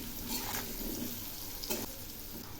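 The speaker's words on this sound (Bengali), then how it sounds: "প্রথমে আমি এই আলুগুলো খুব ভালো করে ভেজে নেব।" Potatoes seasoned with salt and turmeric fry in hot oil for a Bengali dum aloo, giving a steady close crackling sizzle with brief scraping stirs, no voices.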